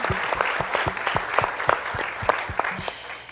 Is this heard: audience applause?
yes